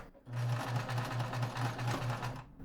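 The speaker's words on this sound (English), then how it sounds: "So I go forward first, then I hang on to this button and do a back stitch for 2 to 3 stitches" A sewing machine back stitches on a cushion, a close rapid run of evenly spaced stitch thumps in quick succession, heard alone at a moderate level.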